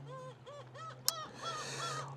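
Seagulls call at the seashore, a string of repeated honking cries close by over a steady low hum, with one sharp click partway through.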